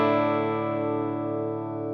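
A clean guitar tone sustaining steadily through an EarthQuaker Devices Disaster Transport SR delay pedal with delay and reverb off, a single held chord ringing and slowly fading without echoes.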